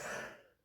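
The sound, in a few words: cough from a cold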